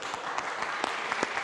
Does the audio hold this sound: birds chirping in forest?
no